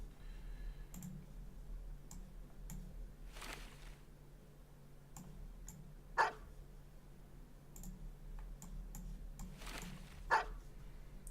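Dogs bark now and then in the video game Battle Brothers, short faint yelps amid scattered interface clicks and a low steady game hum, with no talking.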